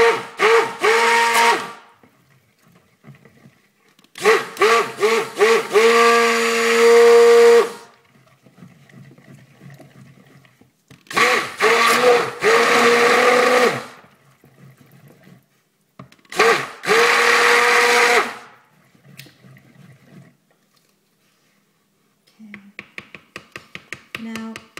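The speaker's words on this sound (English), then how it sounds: "So we're just going to stick blend them, get the colour in" A stick blender whirs in a batch of soap as pink colour is mixed in. It runs in four loud, close bursts of a few seconds each, with quiet pauses and soft handling noises between them.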